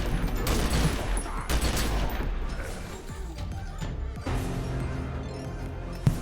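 A video game explosive device goes off amid ongoing gunfire and crashing debris, a busy roar of combat noise with a voice speaking over it.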